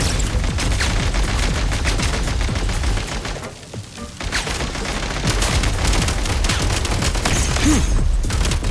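Video game combat with a grenade blast and gunfire fills the scene, continuous loud dense shots and booms with a brief lull midway and no clear talking.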